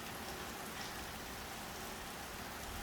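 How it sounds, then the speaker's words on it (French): Steady rain falling in a jungle, a dense, continuous hiss of drops on surfaces with no pauses, close and even in level throughout. "de la pluie"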